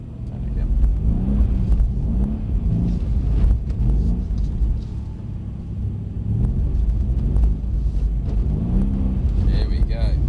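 A Mercedes-Benz C63s engine hums in a low, steady rumble, rising slightly with light throttle blips, heard from inside the car with people talking over it throughout.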